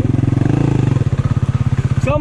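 Yamaha XTZ 300 trail bike on a dirt trail, its single-cylinder engine thumping in a loud, steady pulsing rhythm close up while held at revs, with voices in the background.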